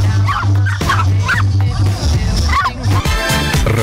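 A Pinscher-Chihuahua mix dog at a pet expo barks repeatedly in quick, loud, close yips and bow-wows over busy crowd noise and music.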